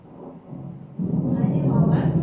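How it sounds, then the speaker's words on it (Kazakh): Low rolling thunder with a steady rain-like wash, faint at first, then swelling louder and continuous after the first second, played during a children's psychology relaxation session. A voice may speak softly underneath. "Күн күркіреп, жаңбыр жауған сияқты қара бұлт келіп келе жатқан сияқты балалар."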